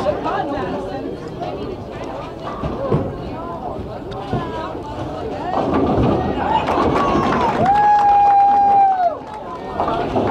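A big cheering squad fills a bowling alley during a boys' high school bowling match, a loud crowd hubbub and chatter running throughout, with a brief whistle-like squeal late on while a commentator talks over it.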